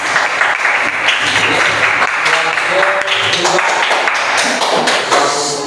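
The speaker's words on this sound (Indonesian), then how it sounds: "Ya, tepuk tangan." Applause fills a classroom or lecture setting, a steady dense clapping that runs throughout, with a voice talking over it at times.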